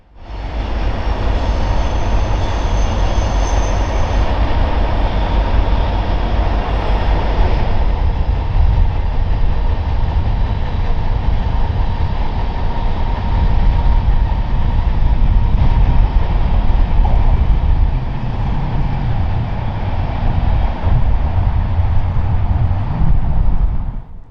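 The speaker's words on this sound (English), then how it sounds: "a great place to catch some trains traversing the bridges over the lake" A BNSF freight train rolls across a bridge over Lake Pend d'Oreille in Idaho wilderness, a loud, steady, rumbling roar that holds without a break throughout.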